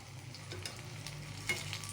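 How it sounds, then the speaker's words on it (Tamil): Cauliflower pakoda frying in hot oil and stirred now and then, a low steady sizzle with a brief scrape of the stirring spoon midway, close and fairly quiet, with no talking. "அப்பப்போ லைட்டாக பெரட்டி போட்டுக்கோங்க."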